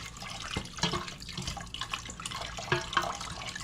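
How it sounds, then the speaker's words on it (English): Cold water is poured into a bowl to mix a lemon meringue pie filling, giving a soft, uneven splashing trickle with small knocks, fairly faint and close. "Now to this, I have here some cold water. This is 2 1/4 cups of water. And I am going to add this here as well"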